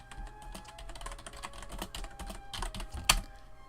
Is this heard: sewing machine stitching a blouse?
no